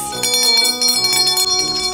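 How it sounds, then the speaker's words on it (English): A hand bell is rung in a hospital room to call for the doctor, giving loud, continuous, ringing metallic tones with overlapping strikes that last the whole moment. "I gave her a bell so she can call us."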